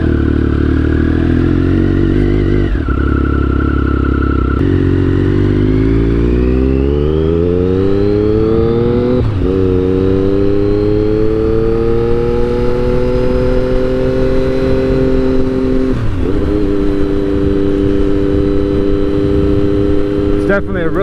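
2009 Triumph Speed Triple 1050 motorcycle pulling away on a two-lane road, engine rising steadily through several gears with pitch sweeps and brief shift dips, loud and close with wind rush throughout.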